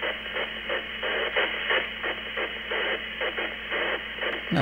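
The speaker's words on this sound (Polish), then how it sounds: "I za chwilę będzie sama nośna." A radio tuned to a bare carrier signal gives a steady band-limited hiss with faint pulsing modulation and a low hum underneath, continuous and moderately loud, with no speech.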